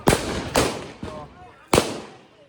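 Marchi bomb firecrackers set off outdoors during village Diwali celebrations, four sharp loud bangs in quick succession, each with a short ringing decay.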